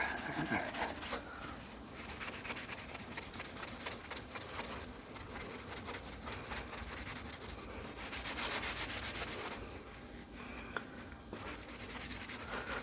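Dried wax metal polish is wiped off a surface with a cloth, giving a faint, close, continuous rubbing and swishing in uneven strokes with no talk.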